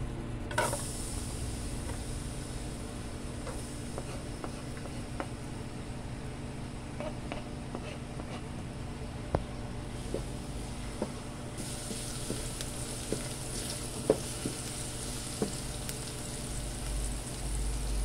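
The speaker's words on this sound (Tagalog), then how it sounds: "Maglagay tayo ng mantika. Sunod natin ng bawang." Garlic frying in cooking oil for batchoy: a faint, steady sizzle runs throughout, punctuated by light clicks and taps of utensils, with no talking.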